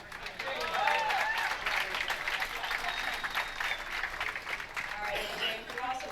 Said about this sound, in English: A big round of applause for typing in Lindsay's name.